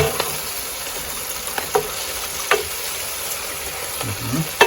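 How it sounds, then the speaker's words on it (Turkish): Fresh garden spinach sizzles steadily in a hot pan, with occasional soft scraping and clicking from stirring breaking through the continuous frying hiss. "Ispanakları biraz karıştıracağım söndükçe. Pişmeye başlayacak."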